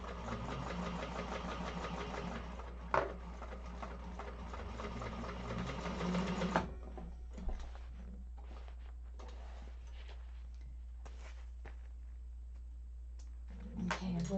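A sewing machine runs in a fast, close whir while stitching a zipper bag seam, then stops partway, leaving quiet handling sounds and soft clicks.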